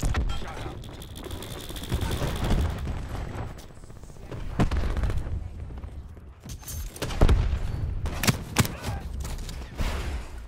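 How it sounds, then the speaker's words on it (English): A cluster grenade strike in a video game sets off a string of booming explosions and rumbling blasts, with scattered sharp impacts rising and falling over about ten seconds. "Inbound cluster grenade."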